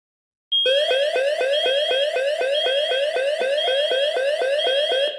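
An OPAX ARD-2545 security alarm panel, being armed, starts abruptly and beeps in a fast, steady, piercing pulse that repeats without pause to the end.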